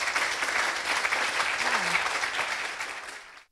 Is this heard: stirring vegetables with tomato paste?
no